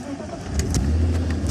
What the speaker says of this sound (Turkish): şimdi arabamız tabii ki BMW yani tek marşta çalışacaktır arkadaşlar